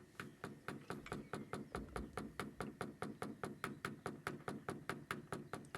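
A paintless dent repair tap-down tool knocks on a car bonnet dented by a bird strike, giving about thirty sharp, evenly spaced taps in a steady quick rhythm, close and clear with no talking.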